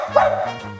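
A person imitates a dog, giving a single short, yappy terrier-like bark that rises quickly and fades within a fraction of a second, heard close up over a faint steady background hum.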